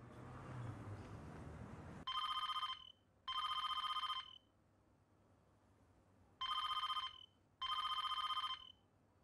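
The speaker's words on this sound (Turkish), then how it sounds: "Canan Hanım, telefonunuz çalıyor." Telephone bell ringing in four even bursts of about one second each, loud and close, after a short stretch of noisy background, with quiet gaps between rings and no talk.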